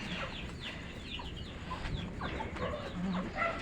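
Backyard egg-laying hens clucking in a steady, overlapping chorus of short calls at moderate distance, with no talking over them.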